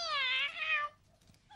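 A cat gives one long, clear, fairly close meow lasting under a second, then quiet follows until a sharp click or bump at the very end.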